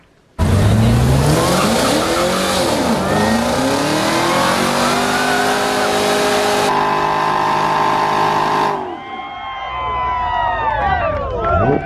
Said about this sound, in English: We'll show them that clip real quick of your first burnout at the drag strip.